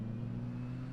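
A Formula Vauxhall race car runs on a wet Mondello Park track while short shifting, giving a brief, steady engine drone with a strong low buzzing tone that holds for about a second.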